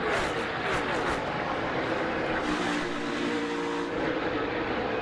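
NASCAR Cup Series race cars roar past in a dense, continuous engine wash, loud and steady throughout, with a commentator's voice faintly under the noise.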